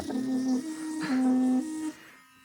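Electric toothbrush in massage mode buzzing in pulsing bursts, its motor tone rising and falling in pitch like an ambulance siren, then fading to a quieter hum.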